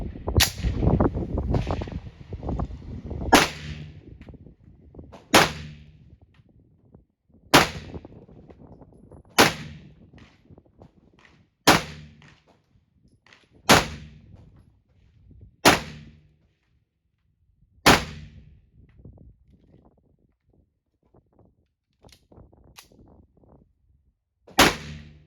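Nine-millimetre 115-grain pistol rounds fired one at a time during velocity testing, about ten sharp, loud cracks spaced roughly two seconds apart, each with a short ringing tail, the first few shots over a busier background.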